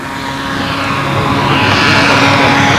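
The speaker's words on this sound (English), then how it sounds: "Oh, the engine sounds great, Billy." Engine of a Windy Tigercat model aircraft running steadily at a contest in Hampton, Maryland, a loud continuous buzzing drone that swells slightly over the few seconds, with no talk.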